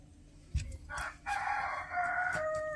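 A rooster crows loudly and nearby at a rural home, one drawn-out cock-a-doodle-doo following a few short clucks and knocks.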